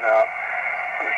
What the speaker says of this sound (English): if you listen close, you'll hear a real high-pitched ee-ee-ee-ee-ee-ee-ee-ee from a nearby station